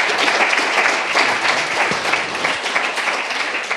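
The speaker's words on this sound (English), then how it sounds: "Give these four a huge round of applause." An audience applauds four research fellows after their project presentations, a full, sustained roar of clapping that stays loud and even from start to finish.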